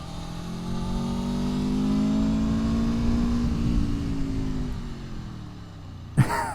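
Aprilia Tuono V4 motorcycle engine holding a loud, rising then slowly falling rev with steady harmonic drone close by, ending in a short sharp burst near the finish.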